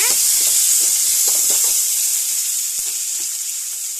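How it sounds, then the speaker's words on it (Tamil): Tomatoes, green chilies and onions sizzling in hot oil in a pan for mango and drumstick sambar, a loud bright hiss that fades slightly, with a few soft stirring knocks and no talking. "தக்காளி மிளகா வெங்காயம் இது எல்லாத்தையுமே இப்போ சேர்க்க போகிறோம் சேர்த்து நல்லா வதக்கிக்கோங்க"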